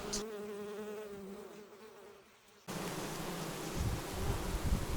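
Honey bees buzz at a hive in a Ukrainian apiary during the early sunflower honey flow, a steady droning hum that turns into a louder, denser swarm noise partway through.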